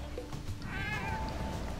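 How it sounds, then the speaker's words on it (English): A creature in the LostWinds video game gives a single clear meow of about half a second, rising and then falling, over steady game background sound. "Hey, they meowed."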